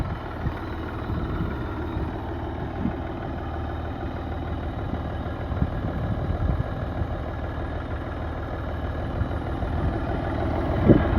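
A one-owner Mahindra 275 Yuvo tractor of about 40-42 horsepower, with side gears, oil brakes and a double clutch, idles in a steady, even low rumble with a faint mechanical rattle throughout.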